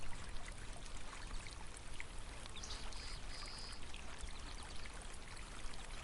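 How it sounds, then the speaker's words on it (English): Water drips and trickles steadily from the edge of a basin holding a soaking hide by a river, forming a soft, continuous wet patter with a faint rushing flow beneath it. "the only sound is the slow, consistent dripping from the basin's edge"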